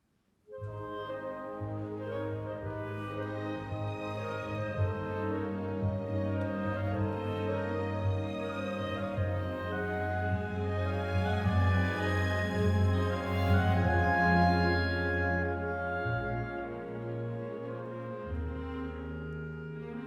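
The Melbourne Symphony Orchestra plays a gentle, lilting passage from Dvořák's Symphony No. 5, with sustained strings and woodwinds, steady and full throughout, no voices.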